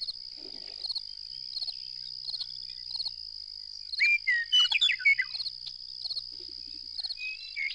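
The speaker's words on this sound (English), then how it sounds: "western meadowlarks everywhere and always singing" Western meadowlarks sing in open wild country, a few short bursts of bright, warbling notes at moderate distance over a steady high insect drone and faint ambient sound.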